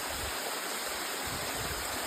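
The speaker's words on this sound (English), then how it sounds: "Say hello to Panther Creek Falls." Panther Creek Falls roars as a steady, dense rush of falling water, close and continuous with no voices.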